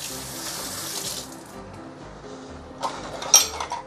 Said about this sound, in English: And I'm going to add some water.